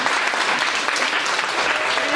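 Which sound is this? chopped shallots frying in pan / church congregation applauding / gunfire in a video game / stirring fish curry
church congregation applauding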